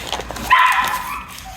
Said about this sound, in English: let me go deal with these dogs